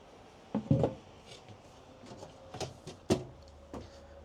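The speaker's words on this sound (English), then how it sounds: "Soft close drawers." Soft-close drawers in a 2026 Thor Motor Coach Gemini 24KB Class B+ motorhome slide and settle with several muted thuds and soft rolling swishes, spaced out over a few seconds, close by and without talk.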